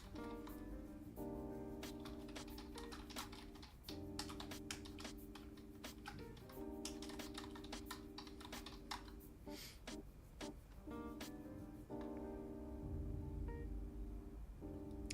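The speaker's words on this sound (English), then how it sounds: "I'm just typing in a bug report for myself here" Someone types on a computer keyboard, producing a quiet, irregular stream of rapid key clicks with brief pauses. A soft steady tonal hum sits in the background.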